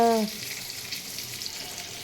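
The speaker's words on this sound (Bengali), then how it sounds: "এই যে এখানে হয়ে যাচ্ছে আমার করলা আলু ভাজা, এই যে গাজর পটল সব ভাজা হচ্ছে" Bitter gourd, potatoes, carrots and pointed gourd sizzle in hot oil in a home kitchen, a steady soft crackle that runs unbroken after a short tonal sound at the start.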